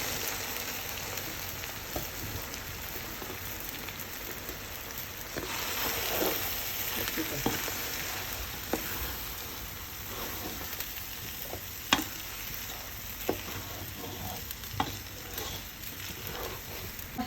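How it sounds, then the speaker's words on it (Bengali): Polao rice for tehari being stir-fried in a pot, a steady close sizzle broken by repeated scraping and clinking strokes of a spoon, alone without talking. "পোলার চালটা দিয়ে ভালোভাবে কষিয়ে নিবে।"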